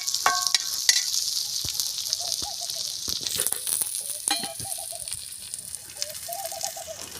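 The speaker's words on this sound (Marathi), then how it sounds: "कांदा पहिले लाल भाजून घ्यायचा आहे आपल्याला" Onion frying until browned for egg curry over a wood-fired clay stove: a steady close sizzle with occasional stirring knocks, while birds chirp faintly in the background.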